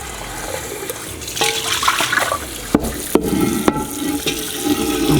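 Water splashes and runs as a Lodge number 12 cast iron pan is rinsed, a steady stream with scattered clanks and knocks of the pan against the sink.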